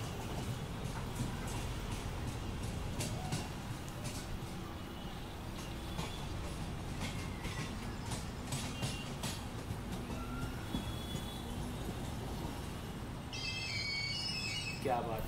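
A Mumbai harbour line local train rolls along the track with continuous rumble and clatter, wheel and rail ticks spaced through the run, and a high brake squeal near the end as it slows to a stop. No voices are heard.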